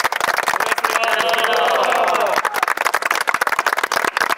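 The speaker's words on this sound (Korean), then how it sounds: "박수로 치면서 마무리하도록 하겠습니다" A group of army recruits at a training center applauding with dense, rapid clapping, while voices call out together in the middle of it.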